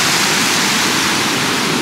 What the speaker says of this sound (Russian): когда в реке есть вода, она подпитывает этот водоем и обеспечивается переток через водосброс дальше